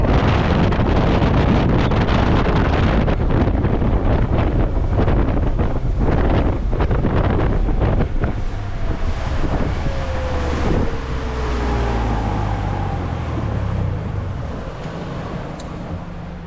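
An Alumacraft FSX 185 Competitor boat powered by a Honda BF150 outboard runs at wide open throttle, its steady engine roar buried under heavy, loud wind buffeting and water rush that persists throughout.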